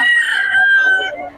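A Bulik Dom breed gamecock crows once up close, a loud, slightly falling call lasting just over a second.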